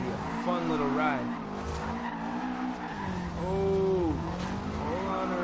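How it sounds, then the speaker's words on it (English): Tires squeal and slide as a 1963 VW Beetle drifts in Forza Horizon 2, with long rising and falling screeches over the engine drone and someone talking excitedly. "that is how you drift a Volkswagen Beetle"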